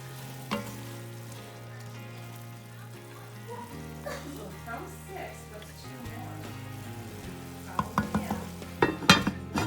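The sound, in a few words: red cabbage braising in a pan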